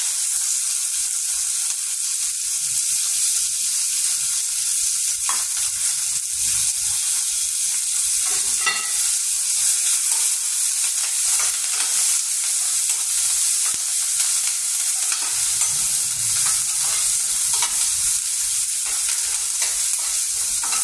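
Onions, green chilies, potato and curry leaves sizzle steadily in a pan while being stirred, a continuous close frying hiss with occasional scrapes, no voices.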